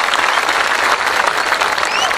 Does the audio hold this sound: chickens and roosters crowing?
no